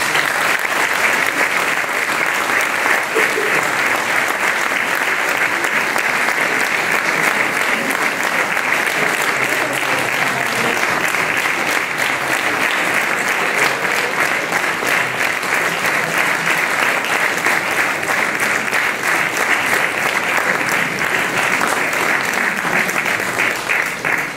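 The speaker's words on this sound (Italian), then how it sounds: "Quindi applaudiamo la Foia Rola di Poggio Terza Armata." An audience at an Italian choral festival applauds the children's choir La Foiarola di Poggio Terza Armata, dense and sustained clapping that stays loud and even for the whole stretch.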